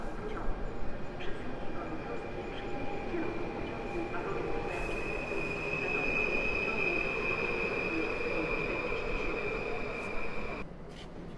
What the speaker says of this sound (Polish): A w międzyczasie przyjechał pociąg Intercity Mazury z Olsztyna do Łodzi Fabrycznej